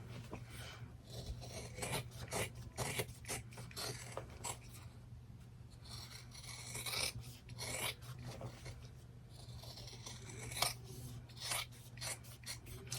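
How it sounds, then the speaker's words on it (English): Scissors snip and rasp all the way around an in-the-hoop embroidered mug rug, working through fabric beside the stitching in a steady run of close, quiet cuts with no talking. "You're just going to cut all the way around it, okay, without cutting any of your stitches."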